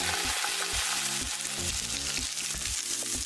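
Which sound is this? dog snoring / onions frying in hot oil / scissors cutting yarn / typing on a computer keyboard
onions frying in hot oil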